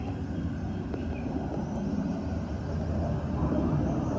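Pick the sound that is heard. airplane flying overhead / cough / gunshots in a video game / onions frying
airplane flying overhead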